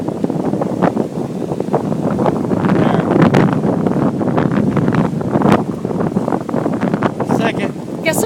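Strong storm wind batters the microphone in continuous loud gusts and roaring buffets, with rustling and occasional sharper bursts layered through the full stretch.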